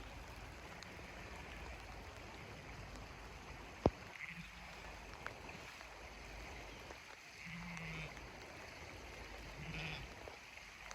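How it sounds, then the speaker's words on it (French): Faint, steady rushing of a flowing stream fills the background near Fort William, Scotland, continuous and distant, with a sharp click and a few soft knocks. "Avec le bruit de l'eau en fond"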